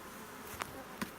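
Honeybees from a brood box ready to swarm, with queen cells on every frame, hum faintly as a steady low drone with a couple of brief, sharper buzzes nearby.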